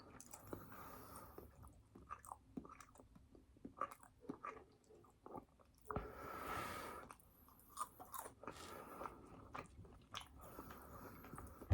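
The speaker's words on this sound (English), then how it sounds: "but the chew noise though" Close, quiet chewing of a Five Guys hamburger, with irregular wet bites and soft crunches repeating throughout and no talking.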